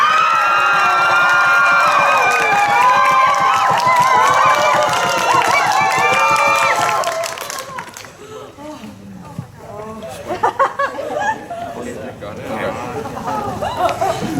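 A team's loud group cheer erupts on a countdown, many voices shouting together for about seven seconds before fading into scattered chatter and nearby talk.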